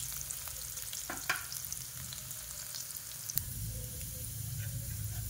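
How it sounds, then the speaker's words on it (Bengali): Potatoes fry in oil over a low gas flame, making a continuous close sizzle and crackle with a few sharp spoon clicks and stirring sounds. "আলুগুলো একটু ভেজে নেব"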